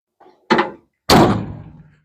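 A cabinet door on a 2017 International 7300 bucket truck with an Altec AM55 body is pushed shut and locked, giving two close, hard thunks a half second apart, the second louder with a short ringing decay.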